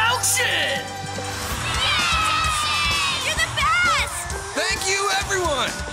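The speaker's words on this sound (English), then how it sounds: "The cheering for the home team is pretty impressive." A crowd in a Beyblade Metal Masters cartoon cheers for the home team, loud and sustained, with shouts and whoops rising over the din and voices talking through it.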